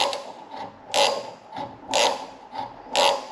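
A hand ratchet turns a reamer into a hinge pin hole, giving rhythmic clicking and rasping strokes about once a second, close and fairly loud with no talk.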